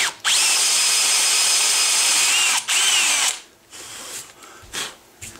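A power drill bores into wood for a gun patchbox with a marked bit, whining loudly and steadily at close range for two long runs, then giving a few short, quieter bursts.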